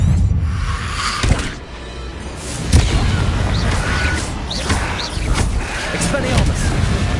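Confringo blasting spell explosions in the PS5 game Hogwarts Legacy: a couple of sharp, booming bursts punch through a dense, continuous layer of in-game clamour and rumble.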